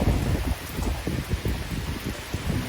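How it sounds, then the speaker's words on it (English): A severe thunderstorm brings torrential rain and strong wind, a dense roaring wash with gusty low rumbling bursts that rise and fall throughout, close and fairly loud, with no voices. "torrential rainfall and strong winds right now"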